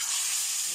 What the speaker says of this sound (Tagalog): Ito, ha. Prito tayo isda.